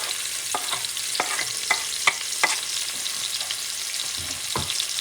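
Chopped onions and red or green peppers fry for Puerto Rican sofrito, a constant close sizzle punctuated by several sharp taps and scrapes of a utensil stirring the pan.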